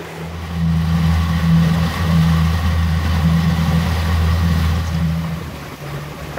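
A 16-foot Hughescraft Sportsman fishing boat motors steadily across open water near Isle Royale at about six miles an hour, its engine a loud, even drone with a constant low hum and no talk.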